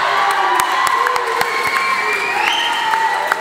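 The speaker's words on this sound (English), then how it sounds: "Give yourself a round of applause." Audience at a 2015 sports awards ceremony cheering, whooping and applauding together, a loud, steady wash of crowd noise with shouts rising over it, no talk.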